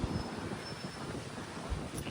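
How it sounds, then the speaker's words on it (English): Blustery wind buffeting a microphone on a crater hike on Oahu, Hawaii, a low rumbling roar with occasional heavier gusts thumping through, and no voices. "I'm sure it's really windy for y'all, sorry."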